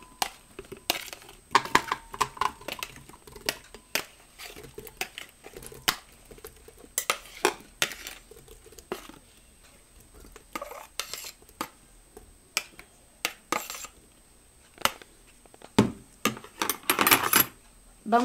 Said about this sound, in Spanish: Ahora vamos a vaciar nuestra fresa a la licuadora.